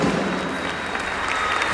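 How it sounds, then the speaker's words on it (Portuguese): Church congregation clapping harder, a loud, sustained stretch of applause with a few heavier thumps standing out from the wash of hands. "Dê um forte aplauso com um brado de vitória ao Senhor Jesus"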